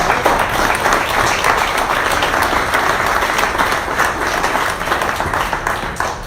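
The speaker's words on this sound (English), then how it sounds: "let's give Tom a big round of applause." An audience breaks into loud, sustained applause, a dense continuous patter of many hands clapping from start to end with no voices over it.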